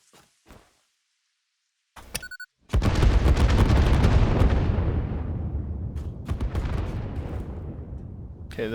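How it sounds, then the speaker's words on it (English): Explosions from the video game Satisfactory: after a few faint blips and a short tonal burst, a loud, deep, rumbling blast erupts and keeps roaring with crackling debris for several seconds, close and heavy. "those extra explosions are really not appreciated"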